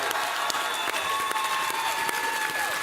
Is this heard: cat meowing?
no